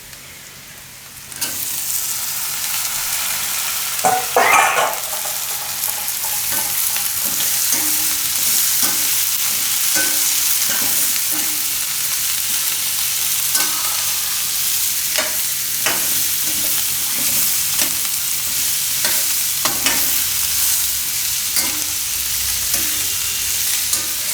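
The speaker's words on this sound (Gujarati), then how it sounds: "હવે આમાં આપણે આ ફણસી નાખી દઈશું બાફેલી." Boiled green beans tipped into a hot pan, setting off a sudden loud sizzle that then holds steady, with scraping stirs and clicks of a utensil against the pan, close up and without speech.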